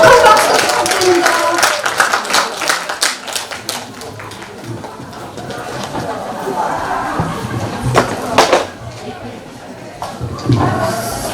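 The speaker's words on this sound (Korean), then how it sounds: "큰 박수 부탁드립니다" Applause at a Korean social workers' day ceremony in Hamyang welcoming a lecturer; scattered, uneven hand clapping from a modest crowd rises and fades in waves, with voices mixed in.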